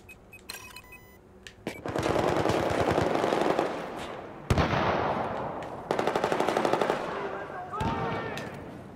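Rapid automatic gunfire from the video game Battlefield 4 on PS4, Siege of Shanghai map, rattles in long dense bursts with a couple of sharp single shots, loud and close, with no talking.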